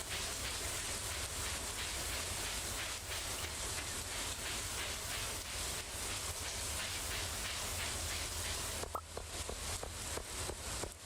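Rainfall in the video game Stardew Valley, a steady hiss of rain on surfaces throughout that drops out briefly near the end, with no talking.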